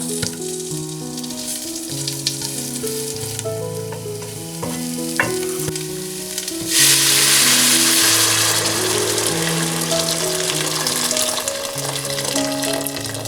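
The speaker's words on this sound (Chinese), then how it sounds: "葱姜爆香" Scallions and ginger sizzle in hot oil for a herbal silkie chicken soup. Music plays throughout, and a steady frying hiss swells loudly about halfway through and keeps crackling to the end.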